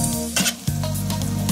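Garbanzo beans tossed with a splash of veggie broth in a hot pan, a steady close sizzle with stirring scrapes and a brief pause as the pan is shaken, no voices.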